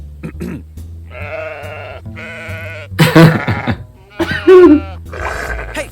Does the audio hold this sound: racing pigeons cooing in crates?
no